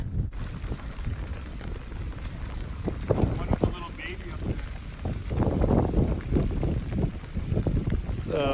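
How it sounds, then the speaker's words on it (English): Rain and wind move in over a river in Indonesia, a steady broadband hiss of rainfall with gusting wind buffeting the microphone, and a few faint higher calls and knocks scattered through it. "So rain's coming in and the monkeys are moving around quite a bit."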